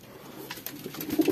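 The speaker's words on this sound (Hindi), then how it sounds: "कबूतर है नए" Pigeons cooing inside a loft cage, a few soft low coos building toward the end of a brief moment, close and fairly quiet.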